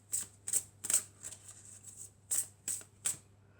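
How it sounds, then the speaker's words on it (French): Tarot cards being shuffled and drawn by hand, a series of about eight soft, crisp riffles and slides separated by short pauses, close and quiet with no talking. "On va prendre une deuxième carte."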